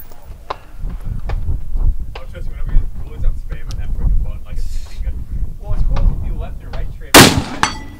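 An early-production Steyr Scout rifle fires during an outdoor barricade drill, with one sharp, very loud close shot near the end, over wind noise, scattered clatter and people talking.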